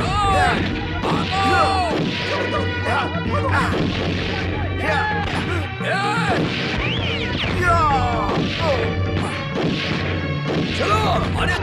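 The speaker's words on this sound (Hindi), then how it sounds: "गोली चल रही है" Gunfire in a Hindi action film scene, with dense, continuous crashes and bangs layered with shouting voices and chaotic commotion throughout.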